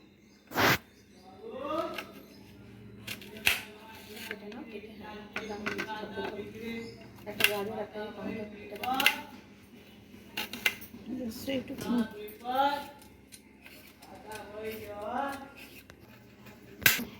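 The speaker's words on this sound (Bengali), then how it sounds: "পেঁয়াজ কাটছি, এরপরে গাজর, এরপর টমেটো কেটে দেখাচ্ছি। চপ করব, ফাইনলি চপ করছি।" Knife chopping onion, then carrot and tomato, finely on a board in a home kitchen while making an Indian-style pancake: quick sharp taps in uneven bursts, close and fairly loud, with a voice speaking at times.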